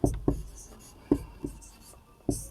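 Pen strokes on paper during a math lesson, several short scratchy taps and scribbles close by, irregularly spaced with quiet pauses between.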